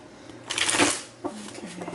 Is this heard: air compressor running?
no